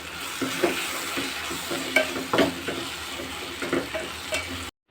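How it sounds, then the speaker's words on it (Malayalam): Egg curry masala frying in a pan with a soft steady sizzle, broken by several scraping stirs of a spatula against the pan, close and moderately loud, without talk. "ഒന്ന് ഇളക്കി കൊടുക്കാം."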